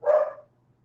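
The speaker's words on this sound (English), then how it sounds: "Forgive my dog for barking in the background" A dog barks once in the background at home, a single short, fairly faint bark followed by quiet.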